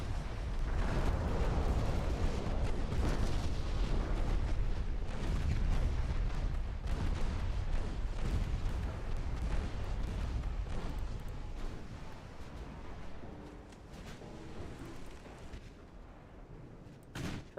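Torpedo explosions roll through a naval battle video game as a dense, continuous rumble of blasts and booms, loud and layered at first and gradually easing toward the end, with no talking.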